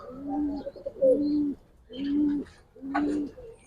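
Giribaz pigeons, a breeding pair, give four distinct, loud, close bouts of deep rolling cooing in a steady rhythm, separated by brief pauses, with faint flock sounds behind them.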